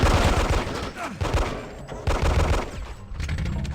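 Gunfire in the Hitman 2 video game, a rapid series of loud bursting shots in clusters with brief gaps between them.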